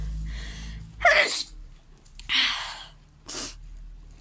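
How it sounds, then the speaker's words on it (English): A sharp sneeze bursts out after some breathing, followed by another sneeze and a shorter third one, close and loud. "I sneeze when it's hot"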